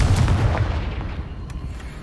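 A Confringo spell detonates in Hogwarts Legacy, a loud rumbling boom that decays into a low, rolling tail.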